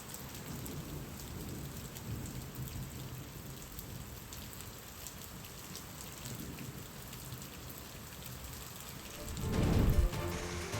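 Steady heavy rain pours down at the start of the monsoon in Gokadva village, Gir Gadhada, Gujarat, and a deep rumble of thunder rolls in near the end.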